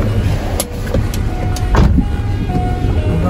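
A 2017 Toyota Avanza drives on a test drive, heard from inside as a steady road and engine rumble with a few faint clicks and knocks.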